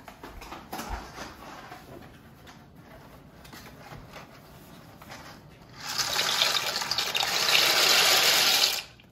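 Pasta shells poured into a pot of boiling salted water on a home stove, starting as a soft background simmer and then a loud, sustained rushing splash and bubbling for a few seconds before it cuts off.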